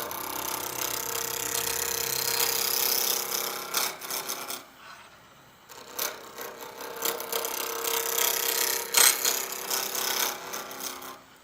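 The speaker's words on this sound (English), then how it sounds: "So I'm just rounding this with a roughing gouge." A roughing gouge rounds a cholla and resin pizza-cutter handle blank on a wood lathe. It makes a steady, close, loud scraping rasp that drops away briefly partway through, then resumes with uneven surges.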